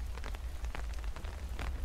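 Steady rain falls in a dense forest, soft and even, with scattered drops and spatters ticking through the continuous wash, and no voices over it.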